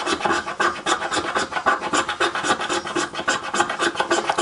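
Blade scraping shavings off a magnesium fire starter bar, loud close rasping strokes repeating in quick, steady rhythm with no talk.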